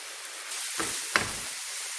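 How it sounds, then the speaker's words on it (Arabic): Vermicelli stirred in a frying pan with lemon, parsley and garlic, giving a steady soft sizzle with two brief scraping swishes of the spoon, close and without talk. "نحركو مزيان هاد الشعريه"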